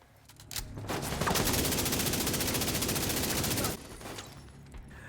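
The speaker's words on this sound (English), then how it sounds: "the honey badger is actually a good AR. It has a surprisingly high rate of fire." Rapid automatic fire from a Honey Badger assault rifle in The Division 2 video game, a dense continuous burst lasting about three seconds, loud and close, then cutting off to quieter ambient game noise.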